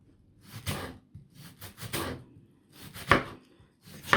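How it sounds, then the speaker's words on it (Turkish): A knife chopping cabbage on a board, with short bursts of close, crisp cuts separated by brief pauses. "Zaten lahanayı böyle ilk başta güzel doğruyorum da sonlara doğru doğrayamıyorum."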